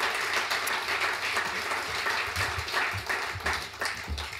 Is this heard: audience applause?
yes